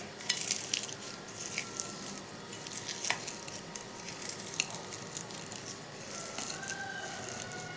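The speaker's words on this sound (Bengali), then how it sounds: "এখন আমি সব কিছু একসঙ্গে মাখিয়ে নেব।" Bare hands squish and knead mashed tomato, egg, salt, raw onion and coriander together for a tomato-egg bharta, making a close, continuous wet squelching with small irregular slaps and no talking.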